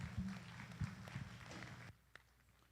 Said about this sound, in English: Let's give these kids a big round of applause for a very competitive first class.